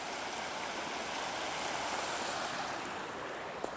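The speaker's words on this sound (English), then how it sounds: "So I'm going to tell you that's the Rogue River" The Rogue River rushes as a steady, broad wash of flowing water, continuous and even from start to finish, heard outdoors beside a forest campground.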